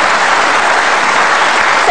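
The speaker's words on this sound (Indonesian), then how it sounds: "Kita kasih tepuk tangan Ibu Albertina" Steady, loud applause from a television studio audience for a woman judge, a continuous dense patter of many hands with no break.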